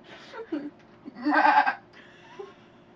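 A person mimics a goat's bleat in a playful voice, giving short wavering bleats followed by one louder, drawn-out bleat near the middle, with brief voiced sounds around it.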